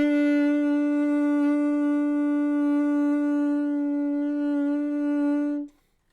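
A single steady saxophone B, fingered with only the left-hand first finger, held for about five and a half seconds in a mellow, smooth tone, then cut off into silence.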